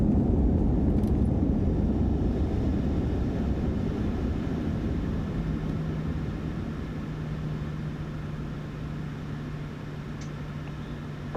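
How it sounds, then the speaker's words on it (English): Auxiliary power unit of a Boeing 737 flight simulator running as a steady, even hum and whine, constant and alone throughout. "Right, APU is on."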